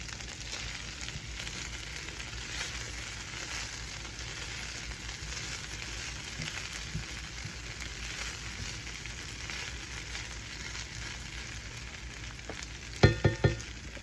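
Fried rice being stirred in a hot pan gives a faint, steady sizzle throughout, with a few sharp utensil knocks near the end.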